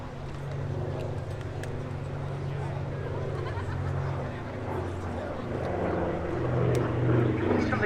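The Flying Bulls B-25J Mitchell, a twin piston-engine bomber, roars through a flying display at the Duxford D-Day airshow, a deep continuous propeller drone that swells toward the end, with a commentator speaking over it.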